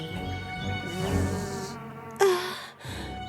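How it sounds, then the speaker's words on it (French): A steady buzz from a giant cartoon queen bee drones on with harmonic overtones, loud and close, joined by brief bursts of higher hiss and a sharp swelling tone near the end. "Juste devant elle se tenait une reine des abeilles immense, 3 fois plus grosse qu'elle."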